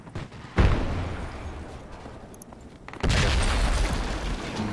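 A frag grenade goes off in the Project Reality military game, with two heavy booms a few seconds apart. The second blast leads into a sustained, loud rumble of battlefield noise.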